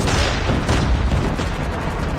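Dense, continuous gunfire and booming explosions fill a Call of Duty Mobile ground war match, loud and unbroken for the whole stretch.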